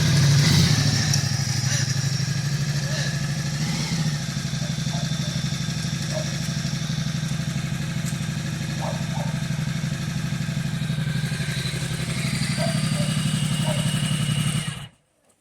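A Ducati motorcycle rumbles steadily at idle nearby, a loud continuous engine note with faint clatter throughout, cutting off abruptly at the end.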